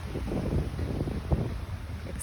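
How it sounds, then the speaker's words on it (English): Steady wind buffeting a microphone outdoors by the ocean on a clear day, a low continuous rumble with brief gusty thumps and no voices. "It's a little windy, and hopefully that doesn't show up on the sound"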